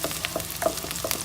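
Garlic sizzles in a hot pan for a stir-fried chayote and ground pork dish, with a steady faint hiss and a few light scraping stirs close by.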